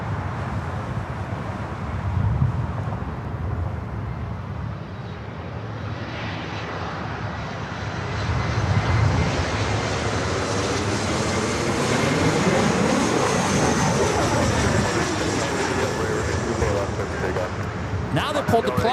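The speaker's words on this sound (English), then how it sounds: "followed by another heavy Norse coming in from Athens, Greece, flight 511 on a 787-9 Dreamliner" A Boeing 787-9 Dreamliner jet arriving on the north side at LAX, a loud broadband engine roar that builds and holds steady with a sweeping whine, heard continuously with talk over it.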